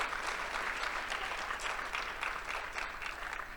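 Applause from a keynote audience greeting a raffle winner, an even, continuous patter of many hands at moderate distance, sustained throughout without speech.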